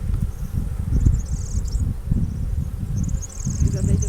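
Bees buzzing inside an educational beehive, a close low droning hum with faint higher whines drifting in and out, while a few quiet voices murmur nearby.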